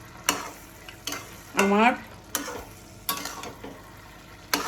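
Fish head and moong dal stirred in a frying pan, a spatula scraping in several separate strokes over a light sizzle, with a short spoken word partway through.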